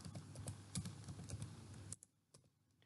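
Fingers tap rapidly on a computer keyboard for about two seconds, a dense run of close, crisp clicks, followed by a few isolated keystrokes in near silence.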